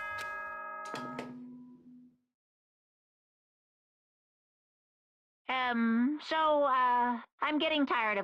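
Announcement chime from the Danganronpa video game: a short ringing bell-like tone at the start that fades out, followed after a pause by voiced speech.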